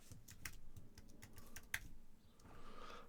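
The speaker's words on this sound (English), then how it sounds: "just type some more" Keys clatter on a computer keyboard in irregular soft taps at a desk, faint and close, with no talking.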